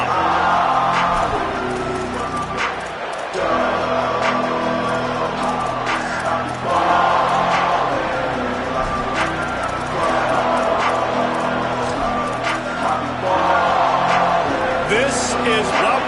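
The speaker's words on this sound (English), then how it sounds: "This crowd ready to make its presence known." A large crowd at an American football stadium keeps up a steady roar with scattered whoops throughout, under a commentator's voice.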